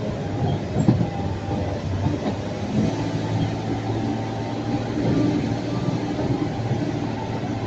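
A heavily loaded gravel truck drives along, giving a continuous, loud, rumbling roar with rattling and clattering from the load, steady for several seconds with no speech.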